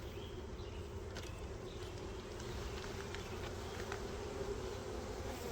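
Honey bee colony humming inside a glass hive, a recently swarmed group kept apart from the main colony, with a steady, dense buzz holding close and even throughout, no voices.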